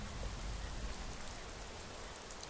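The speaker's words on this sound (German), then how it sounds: "Es regnet schon wieder." Rain falls steadily in the video game Skyrim, a soft, continuous hiss of drops on surfaces, quiet and even throughout with no voices.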